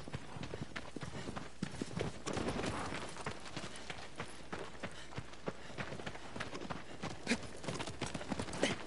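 Hooves clip-clop in quick, steady rhythm as a horse runs in a PS4 video game, a dense, even patter of hoofbeats throughout at moderate loudness.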